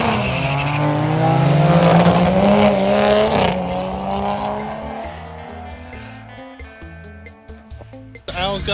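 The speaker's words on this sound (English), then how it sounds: "We're at the Mooresville drag strip today, and we're going to see what the TDI Golf runs with a Malone Stage 1 tune." Tuned 1.9 TDI Volkswagen Golf with a Malone Stage 1 tune at the Mooresville drag strip, its engine droning loudly and rising in pitch before easing off, then quieter idle and clatter with voices nearby.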